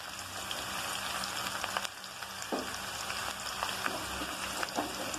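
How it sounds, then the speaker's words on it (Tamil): Onions frying in hot oil over a slow flame give a soft, steady sizzle with faint crackles and pops, fairly quiet and continuous with no talking. "இப்போ வந்து இந்த ஆனியன்ஸ் எடுத்து உள்ளே போட்டுடலாம்"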